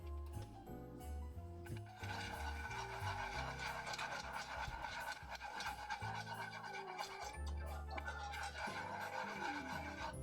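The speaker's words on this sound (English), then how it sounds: "Using my new ball whisk." A ball whisk works in a bowl while roast chicken and apple crumble are being prepared, making a busy, close rattling and scraping that runs almost continuously over a shifting low background hum.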